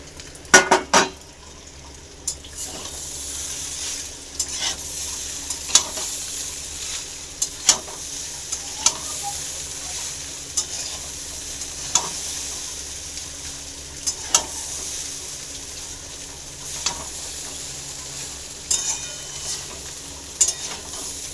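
Eggs frying in a pan for chowmein, a constant soft sizzle with regular clinks and scrapes of a spatula against the pan throughout.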